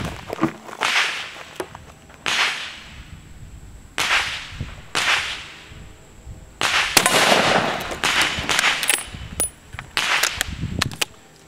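Loud .30-06 rifle shots from a Remington 710 fired at Level III armor plate outdoors, several sharp cracks spaced a second or two apart with a burst of closer reports near the end, each trailing into a brief decay.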